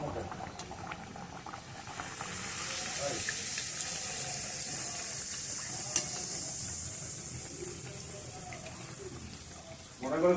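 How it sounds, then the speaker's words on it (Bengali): Pea-stuffed kachori deep-frying in a pan of hot oil give off a steady, bright hiss with soft bubbling that swells and holds, while faint voices murmur underneath. "এভাবে সমস্ত কচুরিগুলোকে ভেজে নেব।"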